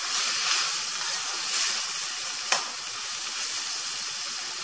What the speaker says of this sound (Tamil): தக்காளி நல்லா வேகிற வரைக்கும் நல்லா வணங்குற வரைக்கும் வறுத்து விட்டலாம்.